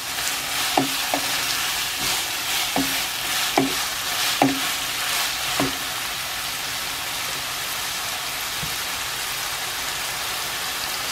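Gapao rice ingredients stir-frying in hot oil in a pan, a steady crackling sizzle with several sharp clinks of a utensil against the pan early on, close and alone with no talk.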